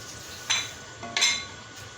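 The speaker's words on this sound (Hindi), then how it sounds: "ये मैं चिकन गलने तक ना इसको अच्छी तरह भून लूँगी।" Chicken for biryani fries and is stirred in a pot, giving a soft sizzle with two or three bursts of scraping as the spoon moves through it, near and moderately loud.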